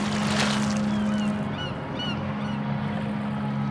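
Geese honk among dense flocks of birds on an estuary shoreline of the South Carolina barrier islands. A few short, distant honks rise over a steady low drone and a constant background wash.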